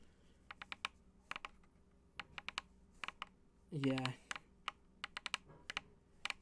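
Clicky keystrokes on a Ducky One 2 Mini mechanical keyboard come in quick irregular bursts and single taps, close and crisp, broken by a brief voiced interjection from a person midway.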